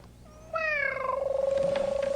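A cat in the Gabriel Knight 2 video game lets out a single drawn-out meow that settles into a steady rhythmic purr, close and clear with no talk.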